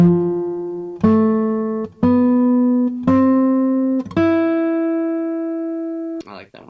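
Five sustained synthesized tones step upward one after another in an even rhythm, each held about a second, outlining a Japanese-style pentatonic scale, loud and clear with a brief noisy burst at the end.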